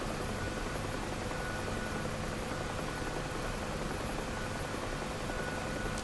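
A simulated helicopter in a flight simulator built around a Simchair MKIII gives a steady, unbroken drone of rotor and turbine noise at an even level throughout, with no voices.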